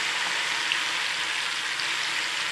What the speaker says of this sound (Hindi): अभी हमने सारा फ्राई कर लिया, देख सकते हैं